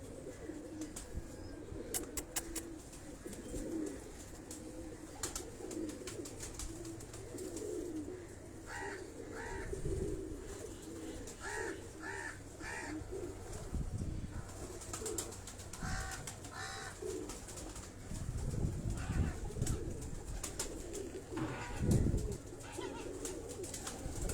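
Cross-bred flying pigeons at a breeder's setup coo in repeated soft, throaty bursts, some close and some farther off, over a faint background murmur with occasional rustling and thumps.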